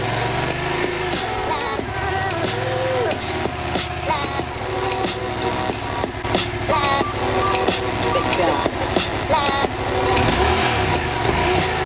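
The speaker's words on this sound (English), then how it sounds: "go ahead and start the motorcycle and do the sound comparison." A motorcycle engine runs and revs up and down, with the sound coming loud and continuous through a small outdoor speaker, while a person talks over it at times.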